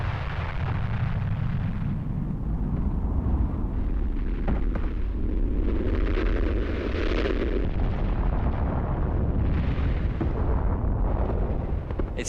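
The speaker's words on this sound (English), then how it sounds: "and you can hear the bangs as they hit the ground, the great thumps." A volcano erupting in New Guinea, hurling red-hot rocks that thump onto the ground: a continuous loud, deep roar with repeated heavy booming impacts, no voices.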